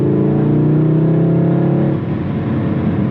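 An MK7 VW Golf R accelerates hard with a loud, close engine whose rising tone holds for about two seconds, then eases into a lower rumble.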